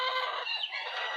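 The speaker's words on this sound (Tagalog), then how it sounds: "At nandito tayo sa ating pamahit ang ating mga manok." Chickens clucking on a small farm on a rainy day, a dense, busy stretch of close, moderately loud clucking and calls with no talk.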